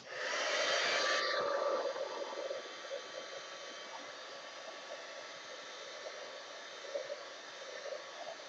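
A heat tool blows with a steady, airy roar over a mixed media art journal page. It is loud for the first second or so, then drops to a quieter, continuous hum.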